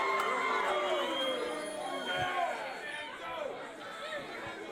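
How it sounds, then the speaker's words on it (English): Wrestling fans in a crowd at a live event make a continuous roar of cheering and chatter, with scattered shouts rising above the steady din. "And now the fans are at full throat"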